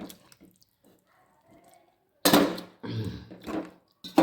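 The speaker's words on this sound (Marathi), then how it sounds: "ह्या कपाने मी 2 कप पाणी ओतलं आहे बघा." Spiced masala water poured into a cooking pot for a green brinjal curry, coming in two close splashing bursts after a near-silent stretch, with a short third splash at the end.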